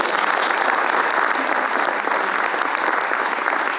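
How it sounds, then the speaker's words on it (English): An audience at the Northern Ballet 50th anniversary launch gives another round of applause, dense continuous clapping held at a strong, steady level. "Another round of applause, please"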